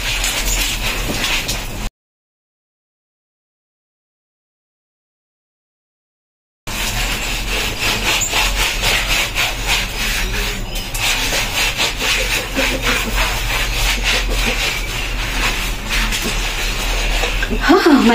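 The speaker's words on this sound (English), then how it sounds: "I can't miss to scrub them gently" Skin being scrubbed during a bath in a village bathroom, heard as steady, close, rhythmic rubbing strokes that continue for most of the clip, with a voice talking over them.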